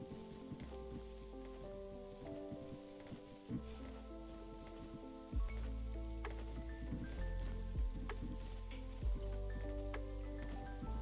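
Rain falls steadily in a video game, a soft continuous patter layered over sustained musical tones and occasional low thuds from the game.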